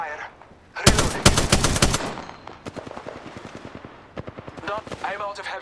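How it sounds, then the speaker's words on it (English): Rapid bursts of video game gunfire crackle loudly up close, a dense volley followed by scattered sharper shots, with in-game combat voices mixed in. "I'm taking fire"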